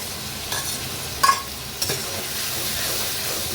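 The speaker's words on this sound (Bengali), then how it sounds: "এর মধ্যে আমি একটা পেস্ট দিয়ে দিচ্ছি। লঙ্কা গুঁড়ো, হলুদ গুঁড়ো, জিরে, ধনে, আদা এটার মধ্যে আছে পেস্টের মধ্যে।" A spice paste of chili powder, turmeric, cumin, coriander and ginger sizzles in a pan for an egg curry, with a steady frying hiss broken by a few sharp scraping stirs near the middle.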